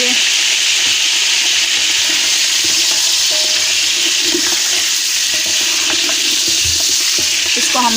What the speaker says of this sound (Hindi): अभी हम अपना चमचा चेंज करेंगे क्योंकि इसकी आवाज़ बहुत हो रही है।